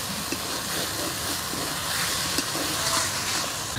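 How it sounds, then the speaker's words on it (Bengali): Fried potatoes sizzle in spiced oil and masala for a Bengali-style duck egg curry, a steady broadband hiss running continuously at close range with no talk. "মশলার সাথে আলুগুলো একটু কষে নিব।"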